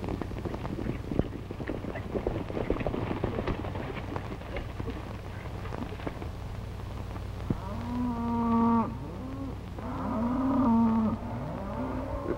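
Cattle low several times from about eight seconds on, drawn-out moos over steady wind and rumble on an open Western trail, with a lighter clatter earlier.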